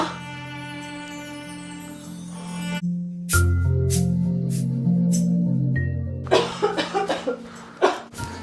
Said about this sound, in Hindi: वो खांस भी रही थी